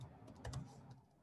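Fingers type on a computer keyboard, a short, quiet flurry of soft key clicks close by with a slightly louder cluster in the middle, and no talking.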